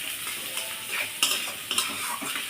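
Fried potatoes are stir-fried with spice paste in a pan, a soft continuous sizzle broken by a few sharp clinks of a metal spatula scraping and knocking the pan.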